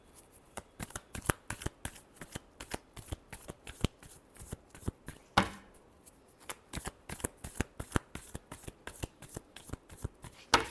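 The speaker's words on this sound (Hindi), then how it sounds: "Last shuffle." Tarot cards are shuffled by hand in quick, crisp riffles and slaps, close and distinct, repeating in a steady rhythm with one brief pause midway.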